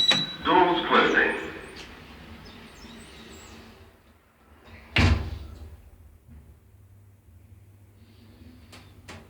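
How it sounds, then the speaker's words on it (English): Lift doors sliding shut in a multi-storey car park lift in Eastleigh, with a short rumble and a sharp thud midway, over a quiet background hum; a voice announces in the lift. "Doors closing."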